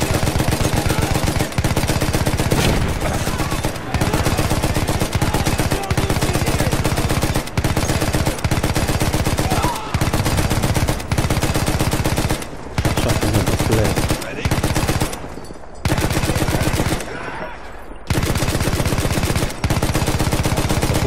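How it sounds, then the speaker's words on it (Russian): Loud, sustained machine gun fire in Battlefield 1 during a beach assault, long bursts with sharp repeated reports, broken by a few brief pauses and heavier blasts near the end. "Стрей, пулемет хватай в руки."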